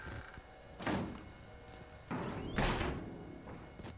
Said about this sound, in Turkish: Bir kapıyı kırıyor.